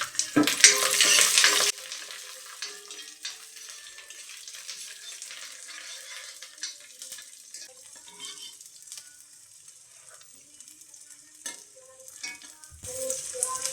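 Garlic frying with asafoetida in a pan, a bright hiss and sizzle up front that settles into soft crackling and occasional stirring scrapes, with no talk.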